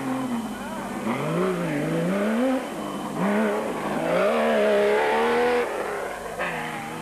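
Off-road race vehicles at the 1996 Baberspan 500: engines rev up and down in repeated surges as the cars race past, with loud rising and falling engine tones throughout.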